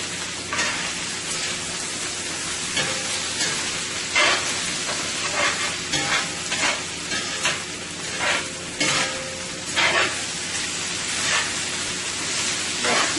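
Chicken, broccoli and cabbage sizzle hard in a hot pan with garlic and ginger, with a steady loud frying hiss broken by repeated scrapes and stirring strokes; faint talk sits underneath.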